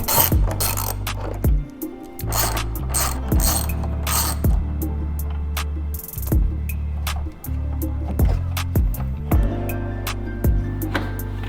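Ratchet wrench working 10mm bolts near the taillight area of a Toyota GR86, close and loud with repeated clicking bursts and brief pauses between turns, no talking.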